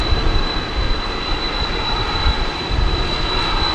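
Loud, steady roar of large aircraft engines droning continuously at an airport at night, with a constant high whine running through the rumble.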